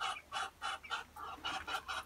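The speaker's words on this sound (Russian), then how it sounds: "Такие уточки." Ducklings call in several short bursts, in a quick, uneven rhythm, close by and fairly clear, with a quiet background and no voices.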